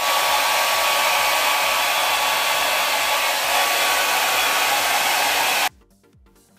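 A hair dryer blows loudly and steadily on freshly dyed hair after a colour melt with darkened roots, then cuts off abruptly near the end, leaving near silence.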